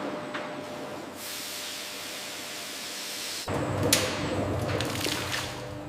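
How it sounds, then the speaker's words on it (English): Steam softens grapes on a smoothie production line, giving a continuous broadband hiss. It jumps to a louder, rougher rush about halfway through and stays there, with no voices. "For our smoothie line, we soften the fruit with steam."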